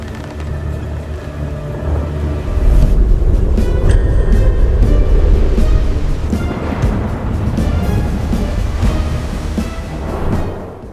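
A huge vertical ocean wave roars in as a loud, sustained low rumble with wind-like rushing that builds, holds and then eases off near the end, with no voices.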